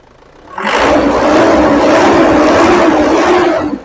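A diesel common rail engine runs steadily after injector cleaning, its knock gone, producing a loud, even mid-pitched drone that starts abruptly and holds for a few seconds before easing off, close up with no voices.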